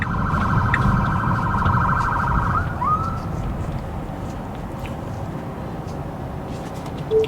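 A Detroit police car in pursuit sounds its wailing siren, loud and rising and falling through the first few seconds over road noise, then cutting off while traffic rumble continues.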